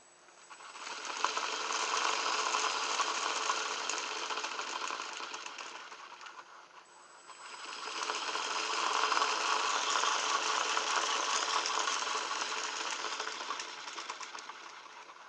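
Hard drive motor run through an ESC and servo tester from a LiPo battery, a faint whirring buzz that swells, dips briefly partway through, then rises again, with no talking.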